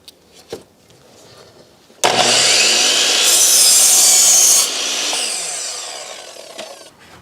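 A table saw cuts wooden rafters at a 10-degree angle: faint bumps first, then a loud, steady whine as the blade bites through the wood for about two and a half seconds, easing into a quieter run-down.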